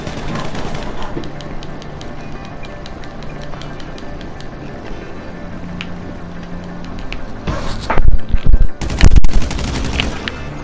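Gunfire in GTA, a busy game soundscape with scattered shots early on, then loud bursts of rapid fire and booms near the end.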